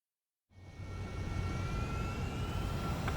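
An ADA-01A Adler jet taxis in Ace Combat 7. Its engine rises abruptly out of silence into a loud, steady roar with a thin, sustained whine on top, staying constant to the end.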